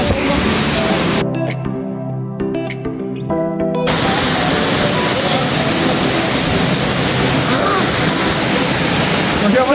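The waterfalls at Huasca, Hidalgo, Mexico, give a loud, close, continuous rushing roar of falling water, broken briefly by a few seconds in which a voice is heard.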